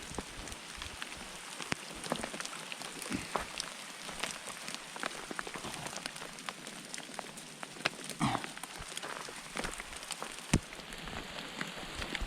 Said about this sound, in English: As you can see, it's hailing on us.